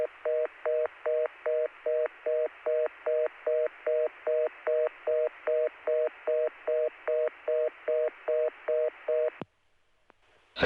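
A 1980 telephone line carrying a long, even series of DTMF dialing tones, about twenty evenly spaced beeps, clear and close, ending abruptly in near silence.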